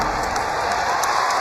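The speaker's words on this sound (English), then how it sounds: "And this crowd starting to come alive." Crowd applauding in a basketball arena during a women's college game between Georgia and NC State, a loud, steady wash of clapping and cheering that fills the space with no break.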